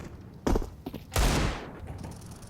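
Two loud, sharp AWP sniper rifle shots in Counter-Strike 2, about half a second apart at the start of the second second, each with a brief echoing tail over quiet game ambience.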